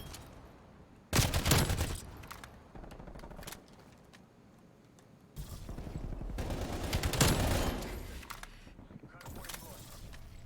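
Light machine gun fire in Black Ops Cold War, two sustained bursts of rapid automatic shots, loud and close, with in-game effects around them.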